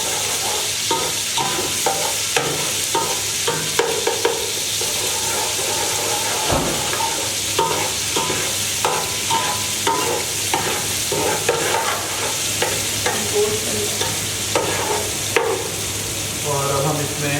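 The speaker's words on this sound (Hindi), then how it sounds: "थोड़ा फ्राई कर लेते हैं।" Garlic and ginger paste frying in oil left from cooking onions for chicken korma, a continuous bright sizzle with repeated stirring taps and scrapes, close and fairly loud.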